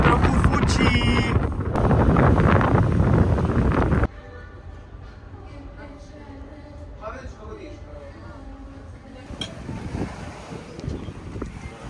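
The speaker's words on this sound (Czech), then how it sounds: "Dneska nám trochu fučí." Wind gusts over a boat on the Croatian coast, roaring hard across the microphone at first, then dropping to a lighter, rushing bluster with a faint wash of water beneath.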